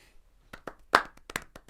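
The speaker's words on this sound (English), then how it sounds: "Don't be afraid to fucking clap." A small audience gives a handful of scattered, hesitant hand claps. They come as a few isolated slaps spread over a moment of near quiet, fairly faint.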